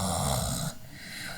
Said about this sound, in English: It's a sudden soft whistle of an involuntary snore